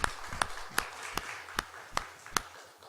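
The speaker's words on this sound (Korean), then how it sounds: "우리 환영의 박수, 축복의 박수 먼저 하고 시작합시다." Sharp claps from a church congregation land in a slow, steady rhythm, about one every 0.4 seconds, over a faint background murmur.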